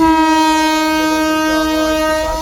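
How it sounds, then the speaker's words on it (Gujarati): A direct Ahmedabad–Ranuja train arriving near Pokaran in Rajasthan around 4 a.m. sounds a loud, sustained horn blast that holds steady for the whole stretch, its bright layered tones dominating with no talk. "ટ્રેન આવી છે અમદાવાદથી સીધી રણુજાવાળી ટ્રેન આવી છે"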